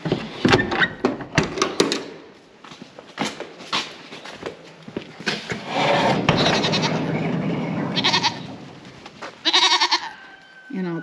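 Goats bleat repeatedly in a barn as does are let in through a big sliding door, with clattering, hoof steps and door noise, and some bleats close and loud near the end.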